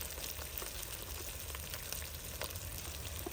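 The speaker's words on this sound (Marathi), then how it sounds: "आपल्याला तेल सुटेपर्यंत चांगल्या प्रकारे परतून घेऊ मला छानपैकी तेल सुटले" Onion-garlic masala sizzling and frying steadily in hot oil in a pan for chole, a constant low crackle with faint stirring and no voices.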